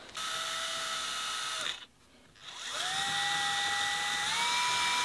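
A power drill driving a screw into a wall, a steady high motor whine that stops briefly, then spins up again and keeps running, rising in pitch near the end, close and clear with no talking.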